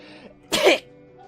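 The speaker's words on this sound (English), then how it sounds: "I have to sneeze" A single short, sharp sneeze from a character in the video game Clam Man 2, one close explosive burst over a faint, quiet background.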